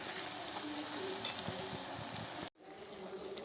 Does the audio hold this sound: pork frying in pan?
yes